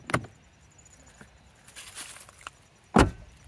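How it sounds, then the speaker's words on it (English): A Mercedes-Benz rear car door being locked and shut: a sharp click opens a quiet stretch of faint shuffling and small clicks, then a single loud, close door thump lands near the end. "And now we can lock this rear door, because this will lock"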